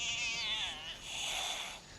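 A cat meows in the video game Fallout 76, a drawn-out, wavering, high-pitched meow followed by a second softer one, close and clear with no talking.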